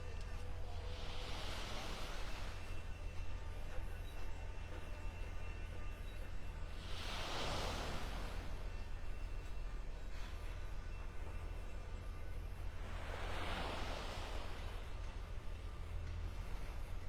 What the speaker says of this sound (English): Hey, I'm at the beach.